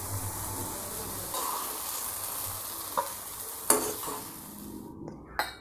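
Jackfruit sautés in ghee in a pan with a continuous soft sizzle, interrupted by a few sharp clinks and scrapes of a spoon stirring against the metal.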